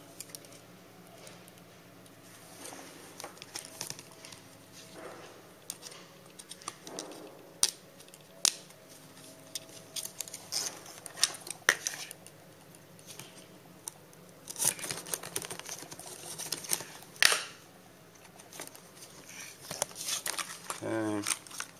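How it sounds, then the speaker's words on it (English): Small zip ties fastened by hand on a deck, giving scattered quiet ratcheting clicks and a few sharper snaps over about twenty seconds against a low background hum, with some rustling. "And I'm going to do 2 small zip ties."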